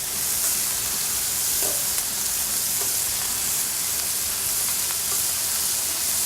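Shrimp and sausage fry in a pan with a steady, loud sizzle and hiss that holds across the whole stretch, with a few faint clicks of stirring underneath.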